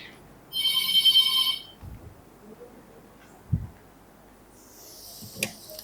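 A mobile phone ringtone plays once, a short bright electronic trill lasting about a second in a quiet room, followed by faint knocks and rustling.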